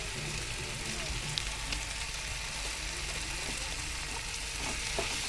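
Okra for vendakkai poriyal stir-frying in a pan makes a constant, fairly loud sizzle, with occasional scraping stirs over it.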